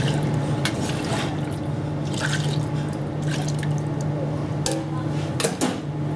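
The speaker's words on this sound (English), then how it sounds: "I'm just going to rinse the cream jug out so we don't waste any" A cream jug rinsed out with milk: liquid drips, splashes and trickles in close, irregular bursts over a steady background hum, with someone talking at times.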